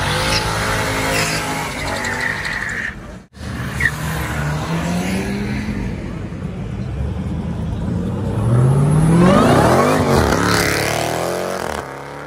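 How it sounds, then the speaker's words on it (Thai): A supercharged Dodge Challenger engine revs hard and climbs in pitch with a high supercharger whine, loud and close at a car meet in San Francisco, briefly cutting out before surging again. "เสียงซูเปอร์ชาร์จนี่โอ้โหจี๊ดเลย"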